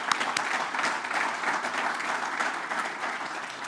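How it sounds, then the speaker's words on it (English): A seated audience at a baseball coach's introductory press conference claps in a steady, dense round of applause that holds at even strength throughout, with no voices over it. "Let's give a round of applause for that."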